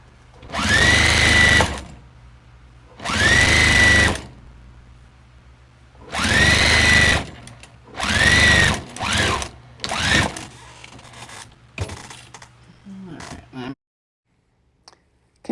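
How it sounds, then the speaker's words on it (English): A sewing machine stitches quilt strips onto batting in four loud, close bursts of rapid whirring with pauses between them, followed by shorter stops and starts and light handling noises. "Continue sewing the strips until the batting is full on both sides."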